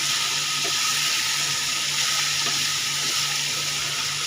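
Potato and papaya vegetables frying in a pan at home, a dense continuous sizzle close by with a few faint stirring knocks, no talk.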